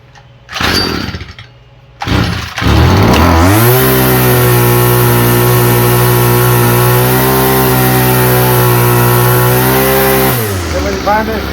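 A Stihl FS45 string trimmer's small two-stroke engine, its carburetor freshly cleaned, is pulled twice, then catches and holds a loud steady buzzing run for about seven seconds before cutting out and sputtering.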